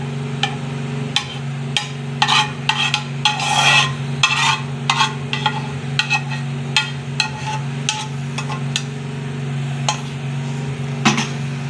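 A utensil scrapes and taps against a pan as cooked sauce for chicken sticks is pushed out into a dish. Irregular knocks and scrapes ring close over a steady background hum.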